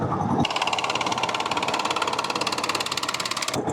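Boat engine on Inle Lake sputtering and struggling, a loud, rapid mechanical chugging pulse with rattling that runs steadily after a brief rougher onset.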